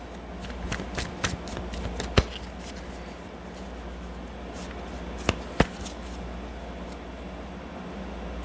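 Angels and Ancestors oracle cards by Kyle Gray are shuffled by hand for a reading, a steady soft riffle and rustle of card stock with a few sharp slaps as cards settle, close and alone.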